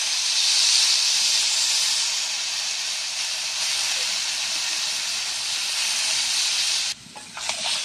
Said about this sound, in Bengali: পরিমাণ মতো জল দিয়ে দিচ্ছি